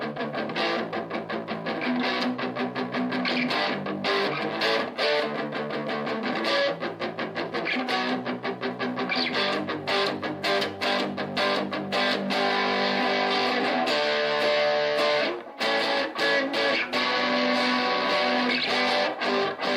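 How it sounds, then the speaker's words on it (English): Electric guitar with S-S-H pickups played through the distortion channel of a small Donner 3-watt practice amp: a loud, continuous, gritty distorted riff with steady strummed chords and held notes, and no talking. "It's got tone, it's got gain, it's got a distortion channel as well,"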